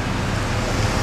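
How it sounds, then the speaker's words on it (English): Lawn sprinkler heads spray water across a lawn outdoors, a loud, steady hiss like surf or wind, constant and close, with no talk in it. "Planned Parenthood has placed these 360 water heads on their lawns here"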